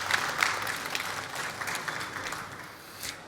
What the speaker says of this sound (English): maybe a short applause for these guys